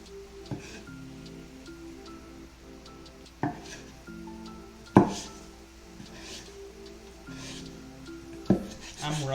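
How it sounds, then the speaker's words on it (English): A knife roughly chops ingredients for crispy skin salmon on a cutting board, striking in irregular, scattered knocks with scraping and rubbing between them, close by, while a person talks intermittently underneath. "I'm roughly chopping these as well."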